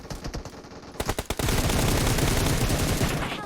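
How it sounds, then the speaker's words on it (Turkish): Gunfire in the mobile battle royale game PUBG Mobile, a few sharp shots followed by a dense, continuous loud burst of rapid fire. "Arkadaşı beni vurdu."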